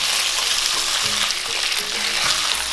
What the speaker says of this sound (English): add the black soy sauce, about 1 tablespoon black soy sauce to cover all your rice noodles.